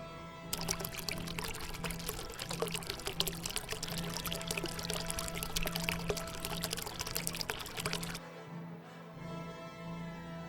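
Spring water pours and murmurs in a steady, even stream, a continuous close splashing with a faint low hum underneath that stops abruptly near the end.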